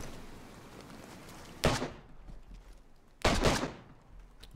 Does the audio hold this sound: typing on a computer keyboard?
no